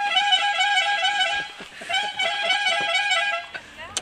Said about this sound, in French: Vas-y, pas qu'il y a un klaxon italien